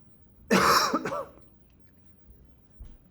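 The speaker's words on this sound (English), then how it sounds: "Pardon my cough." A single close, sharp cough with a throaty edge, followed by quiet room tone and a faint soft noise near the end.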